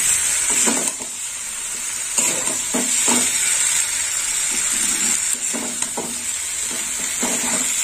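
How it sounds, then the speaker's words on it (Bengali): Mango pieces stir-fried with potatoes in a pan while making rui fish curry with mango, a steady close sizzle with repeated scraping and clinks of a utensil stirring. "এবার দিয়ে দেবো ভেজে রাখা আম। আমটা দিয়েও একটু কষে নেব।"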